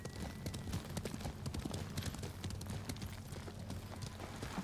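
Horse hoofbeats gallop in the video game Ghost of Tsushima, a quick continuous clip-clop rhythm at moderate level over a low ambient rumble.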